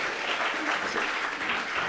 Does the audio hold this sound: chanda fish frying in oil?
no